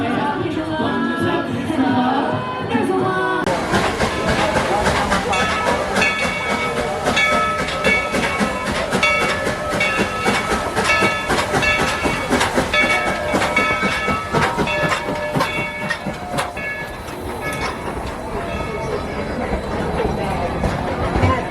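The train ride at Dollywood during Christmas rumbles steadily and loudly, with rhythmic clickety-clack of wheels on rail throughout and voices of riders mixed in nearby.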